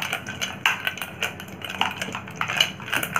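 Ghee whisked with ice cubes in a bowl until creamy, giving a rapid, irregular clatter of whisk and ice knocking against the bowl, close and continuous.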